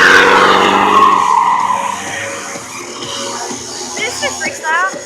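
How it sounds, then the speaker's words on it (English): At the Royal Adelaide Show arena, stunt cars spin donuts on grass, with loud, wavering tyre skids and engine revving. A commentator's voice carries over the arena noise as the skidding sweeps up and down. "Oh look, they're doing donuts."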